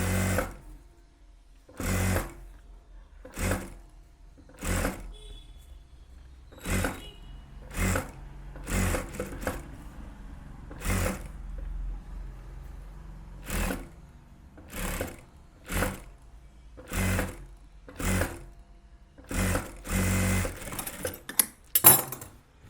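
A sewing machine stitches the edge seam of a blouse back-neck lining in repeated short bursts, each run of whirring stitches separated by brief pauses, close and steady with no voices.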